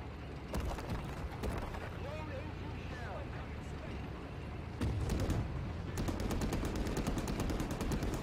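Repeated gunfire from the game Men of War: Assault Squad 2, Cold War setting, with tank combat, rattling in dense bursts over a constant battle din, growing louder near the end while someone talks throughout.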